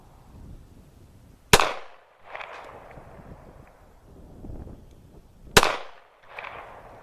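An American Tactical 1911 GI pistol fires two sharp, loud shots about four seconds apart, each with a short echoing tail, over faint outdoor background noise.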